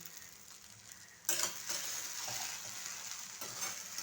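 Sabudana khichdi being stirred and turned in a pan, a steady close sizzle with scraping and stirring strokes that grow louder partway through.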